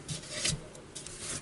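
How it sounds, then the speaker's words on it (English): Abrasive rubbing from sandpaper against a wet wood bowl spinning on a lathe, a steady raspy hiss that swells and eases in uneven strokes, fairly quiet and close with no voices. "This wet wood doesn't sand too good."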